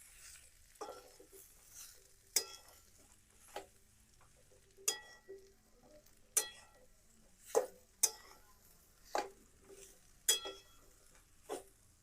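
Dates cooking in hot ghee are stirred in a pan, giving sparse, sharp clinks and scrapes of the spoon at irregular intervals over a faint sizzle in an otherwise quiet room.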